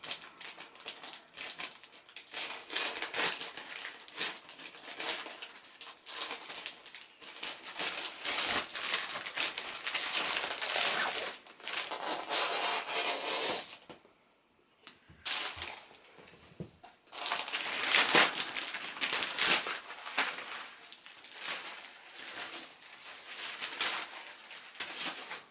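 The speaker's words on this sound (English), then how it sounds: "I'm going to cut this bag open and see what the material in this thing's like" A foil freezer bag cosy being cut open, close plastic and foil crinkling and rustling with snipping, steady for long stretches with one brief quiet pause midway, no talking.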